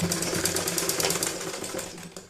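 Sewing machine running a double stitch on a baby's cloth nappy, a steady close mechanical whirr with rapid rhythmic needle chatter throughout, no talking.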